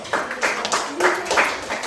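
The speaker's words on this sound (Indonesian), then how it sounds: "tepuk tangan dulu untuk Leon" A classroom of students clapping for a classmate named Leon, a short burst of scattered hand claps at close range with a voice briefly heard partway through.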